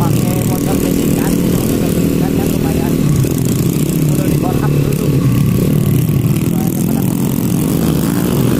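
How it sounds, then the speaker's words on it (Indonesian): Petrol dirt bikes with loud, rough aftermarket exhausts run along a red-earth trail toward Curug Dengdeng waterfall, a constant close, raspy engine drone with rising and falling revs throughout. "Kebetulan ini knalpotnya pada rada-rada barbar. Ya. Karena kebetulan pakai motor bensin."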